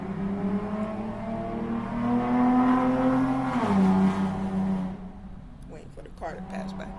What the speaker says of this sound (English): Waiting for the car to pass by.